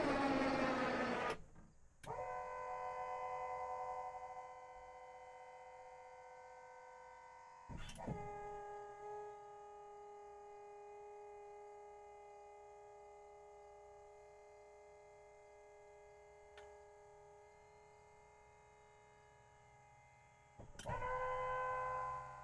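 An electric actuator angles a KFI plow mounted on a HiSun Sector 750-D utility vehicle, giving a faint, steady motor whine that starts and stops with brief clunks at the transitions, heard close with no talking.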